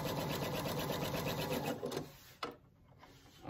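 A sewing machine runs quickly, stitching quilt star block pieces with a fast, even mechanical whir. It stops about two seconds in, followed by a brief rustle and a quieter pause.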